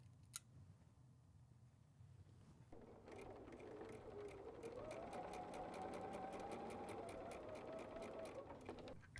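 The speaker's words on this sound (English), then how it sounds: "Now I'm ready to put the next one here, right in that corner, and let's sew again." A sewing machine stitches quilt fabric pieces, starting after a quiet pause with a small click, then a steady, close, even mechanical hum with fast regular needle ticks that runs to the end.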